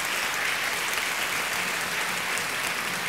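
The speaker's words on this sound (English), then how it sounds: "I think it deserves a round of applause" Audience applause at a 2014 school district convocation: a dense, steady wash of clapping from a large crowd that lasts the full three seconds at an even level.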